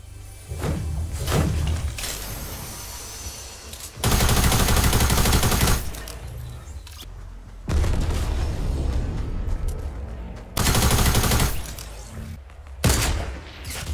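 Video game sniper rifle fire, several heavy booming shots in separate bursts with loud sustained blasts between quieter stretches, close and dominant with no talking.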